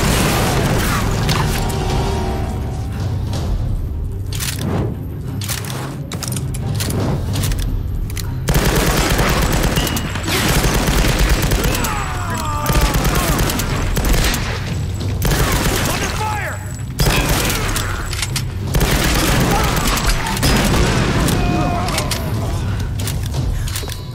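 In the Tomb Raider video game, a burst of heavy gunfire and booming explosions erupts as an explosive barrel is shot, a dense and continuous loud barrage with people talking throughout.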